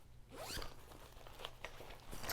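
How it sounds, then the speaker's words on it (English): Zipper being drawn along a knitting project bag, a quick rasping pull followed by a few shorter scratchy tugs, close and fairly quiet. "do you know how many times I've caught that yarn in this zipper?"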